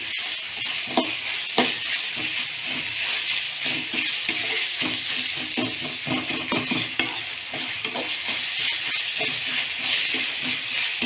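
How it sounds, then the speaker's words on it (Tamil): Rava upma ingredients with rock salt and tomato sautéing in a pan, a steady close sizzle and hiss with repeated stirring scrapes and rattles throughout. "இதில் இது கூட சேர்த்து போட்டு எல்லாம் வதக்கிட்டு இருக்கோம்"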